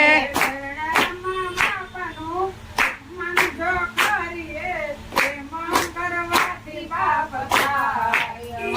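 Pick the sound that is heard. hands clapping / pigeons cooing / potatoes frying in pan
hands clapping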